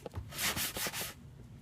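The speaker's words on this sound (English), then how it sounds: "Can't hate sanding." Sandpaper rubs back and forth on wood in a few quick, scratchy strokes, close up and fairly quiet, with no talking.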